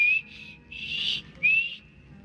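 Three short, clear whistle tones in the video game Skyrim, each a bright sustained note, separated by brief pauses over a quiet low background.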